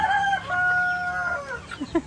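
Native village chickens (ayam kampung) in a multi-tier coop, one bird giving a clear nearby crowing call with drawn-out tones, followed by short clucks and rustling.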